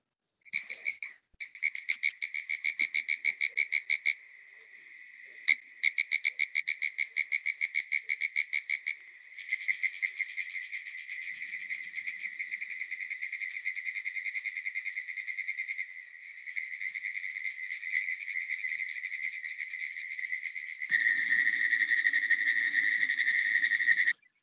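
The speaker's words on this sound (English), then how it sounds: "Really does sound a lot like a Morse code machine." Pine woods treefrogs in pine forest habitat give rapid, high-pitched dot-dash trains of clicking calls that resemble Morse code, repeated in long runs with overlapping choruses, clear and close with no talking.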